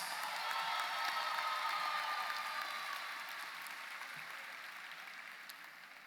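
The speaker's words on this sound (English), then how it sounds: "Please give them a round of applause." Applause for graduating students at a high school commencement ceremony in Atlanta, a faint, distant crowd clapping steadily and slowly fading over several seconds.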